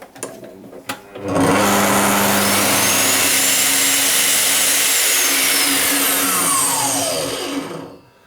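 A Bosch GTS B42000 table saw starts up after a couple of clicks, its motor surging to a loud, steady high whine that holds for several seconds, then begins to spin down.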